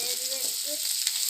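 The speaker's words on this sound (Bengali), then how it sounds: "নেড়ে দিব একটু।" Fish curry stirred while frying in a pan: a steady, moderately loud sizzle with a couple of quick scraping strokes and faint clinks, no talking.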